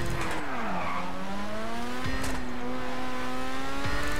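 Race cars in a GTA Online race drone with steady engine tones that shift pitch, while sharp tire squeals and skids cut in near the start and middle, loud and continuous without talk.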